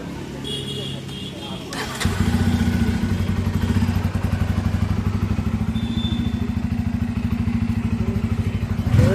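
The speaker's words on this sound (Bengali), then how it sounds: "এই যে চলে আসছে বাইক, হ্যাঁ হোয়াইট কালার।" A new white Bajaj Pulsar N250 motorcycle rolls up close. Its single-cylinder engine thumps in a steady, loud, fast beat after a faint start, and a voice is heard briefly.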